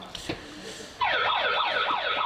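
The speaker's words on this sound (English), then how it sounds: "that sounded more like a police siren" A police siren suddenly wails up, a loud, close, rapidly sweeping yelp that rises and falls in a steady cycle, starting after faint ambient noise.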